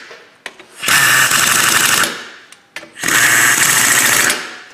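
Power tool set to its lowest torque setting during front brake, wheel bearing and ball joint work on a Chevrolet Sonic, two loud sustained rattling bursts of about a second each, separated by short clicks and pauses.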